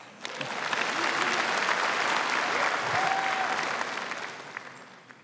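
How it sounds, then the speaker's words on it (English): A convention crowd at the 2018 NRA-ILA Leadership Forum breaks into sustained applause, swelling quickly after a sharp start, holding steady and loud for several seconds, then tapering off near the end. "Give yourself a round of applause."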